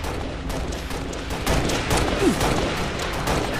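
Rapid DMR rifle gunfire from the Halo Reach multiplayer Slayer match on the High Noon map, a dense run of sharp game shots and bursts that keeps up over steady in-game noise throughout.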